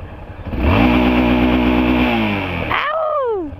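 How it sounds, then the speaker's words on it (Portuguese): A motorcycle engine revs loudly nearby, holding a strong buzzing roar before a quick rising and falling pitch sweep at the end, with no voices. "Olha um monte de moto ali."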